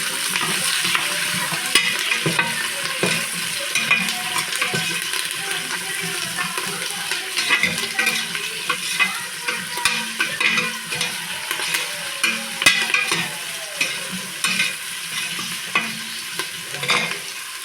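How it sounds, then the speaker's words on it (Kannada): Onion and curry leaves frying in a pan for tomato bath, a loud continuous sizzle with a steady crackle and occasional stirring scrapes, close and unbroken for the whole stretch, no talking. "ಆನಿಯನ್ನು ಮತ್ತು ಕರಿಬೇವನ್ನ ಆ್ಯಡ್ ಮಾಡ್ತಾಯಿದ್ದೀನಿ. ಸ್ವಲ್ಪ ಇದು ಫ್ರೈ ಆಗಲಿ."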